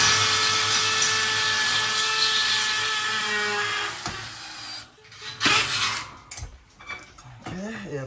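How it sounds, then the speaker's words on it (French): A power drill bores holes for a suspended ceiling, a steady high whine running for several seconds before stopping, followed by scraping, handling noises and a brief voice nearby. "On va d'abord percer."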